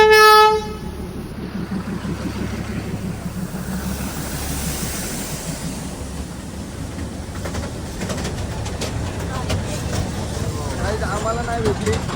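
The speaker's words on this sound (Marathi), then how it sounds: "Toy train." The Matheran toy train opens with a loud horn blast, then its carriages rumble and clatter steadily along the narrow-gauge track nearby while people talk over the running noise.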